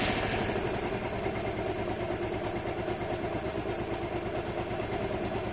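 A Honda Varadero 125 motorcycle idles steadily after being started without choke, a close, loud, even engine putter with a rapid regular beat and mechanical clatter, running alone with no talk.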